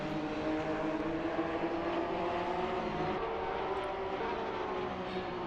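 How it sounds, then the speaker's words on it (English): Racing engines from a Porsche 911 Supercup car in a sim-racing game at Salzburgring or Road America, a steady loud droning whine of several cars close together filling the whole stretch with no voices. "we heard a car going off there"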